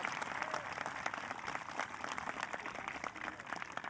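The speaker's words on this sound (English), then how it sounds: "A round of applause." Quiet, steady applause from a seated audience at a middle school 8th grade awards ceremony, even clapping throughout a few seconds, heard from some distance.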